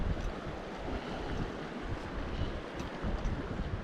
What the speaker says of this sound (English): this wind's gonna make it interesting